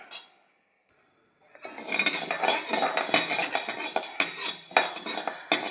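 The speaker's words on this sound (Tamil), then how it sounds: "உளுத்தம்பருப்பை ஃப்ரை பண்ணிட்டுருக்கேன்" Urad dal frying in a pan with a utensil, giving a steady clatter of metal scraping and clinking against the pan after a short pause of near silence, fairly close and continuous with no voices.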